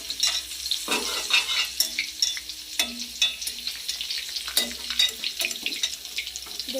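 Palm fritters (taler bora) fry in hot oil with continuous close crackling, broken by repeated knocks and scrapes of a slotted spoon as the fritters are lifted out.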